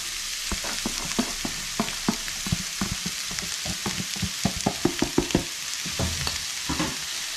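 Peppers and onions sizzling in a pan with oyster mushrooms, a steady fry hiss broken by frequent clacks and scrapes of stirring, close and fairly loud, with no talk.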